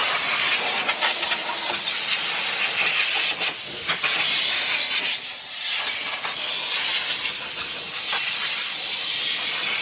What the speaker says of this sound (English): We'll give it a blast down with the air hose